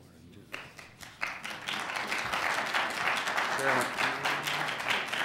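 Audience applause at a transit board of commissioners meeting: scattered claps build quickly into steady, sustained clapping from a room full of people, with a voice speaking briefly amid it.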